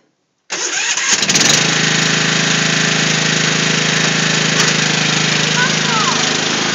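A Toro ride-on lawn mower engine starts abruptly after a brief silence and then runs steadily and loudly at close range, a continuous mechanical drone with no pauses.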